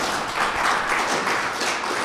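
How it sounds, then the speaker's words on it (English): Audience applause at a security conference talk, a steady wash of many hands clapping from a crowded room, moderately loud and sustained with no voice over it. "Give them a round of applause."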